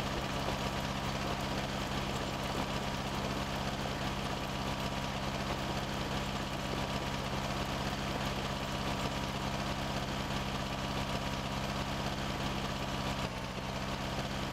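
Tractor engine idling in Farming Simulator 19, a steady low mechanical drone with a constant buzzing hum that runs unbroken and evenly loud throughout, with no talking.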